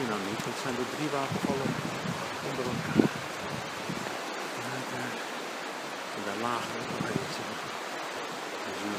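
A small river flows steadily in Finnmark, Norway, giving a broad, continuous rushing wash that sits close and fairly loud while voices talk over it.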